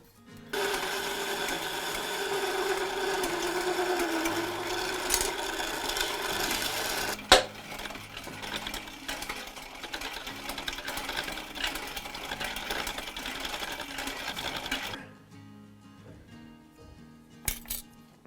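A power drill whirs steadily for a long stretch, then cuts off, leaving quieter background with a couple of faint clinks.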